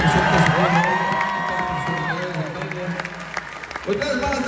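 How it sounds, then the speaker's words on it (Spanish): Concert crowd applauding and cheering for a dancer in a live show, a dense steady wash of clapping and shouts with a voice and melodic tones sweeping over it, fairly loud throughout. "A ver los aplausos para él."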